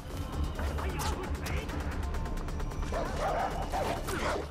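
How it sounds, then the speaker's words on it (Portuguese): A dog barks and snarls while biting in Far Cry 4, with repeated yips and growls against busy game sounds and a loud crash later, close and frantic throughout. "Tem um cachorro mordendo aqui, ó."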